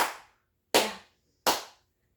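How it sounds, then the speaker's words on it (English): Three sharp, loud, isolated claps ring out evenly spaced about three quarters of a second apart, each followed by a short decay into silence. "And then you hear the sound of clapping."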